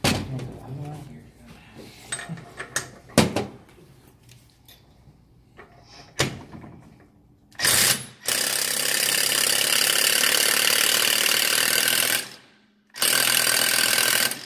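A cordless impact wrench rated at 1,200 foot-pounds hammers at a bolt in a Nissan CVT workshop. Scattered tool clatter and clicks come first, then loud, close bursts of rapid rattling impacts, with one long sustained run broken by a brief pause.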